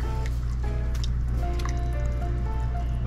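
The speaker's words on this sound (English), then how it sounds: "you can go ahead and add some water to just thin it out a little bit" Water is added to a chunky homemade spaghetti sauce and stirred in, giving close wet squelching and dripping sounds over a low steady hum.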